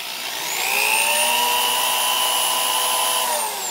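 A DeWalt ship auger bit bores into wood under a power drill, the motor whine spinning up, holding a steady high pitch for about three seconds, then easing off at the end.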